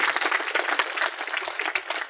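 An indoor audience bursts into dense, loud applause, many hands clapping continuously for a couple of seconds.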